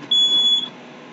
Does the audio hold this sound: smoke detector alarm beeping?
yes